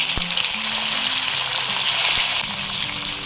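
Hilsa fish pieces go into hot oil for a Bengali oil-and-chilli fish curry, and a loud, steady frying hiss holds throughout, with a couple of short clinks near the start and middle.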